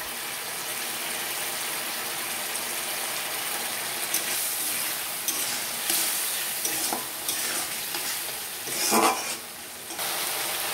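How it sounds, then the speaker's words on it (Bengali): Spices with cumin powder and chili powder sautéing in oil in a pan, a constant bright hiss of frying with occasional scrapes and stirring knocks, for a tilapia curry with drumsticks and potatoes. "দেখো আমার মশলা কষে গেছে।"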